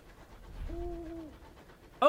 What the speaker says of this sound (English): Oh good, owl sounds!